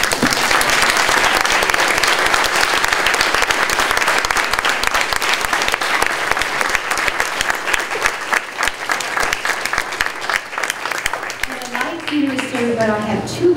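An audience at a college educator awards ceremony gives sustained, dense applause for the awardees. The clapping tapers off at the end as a voice begins to speak.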